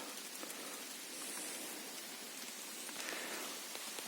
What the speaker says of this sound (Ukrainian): Пустився дощ, дощик крапає.